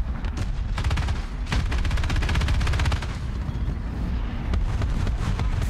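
Tank artillery and gunfire in a World War II-style combat video game, with rapid bursts of loud shots and heavy booms rolling together across the whole stretch, close and dense.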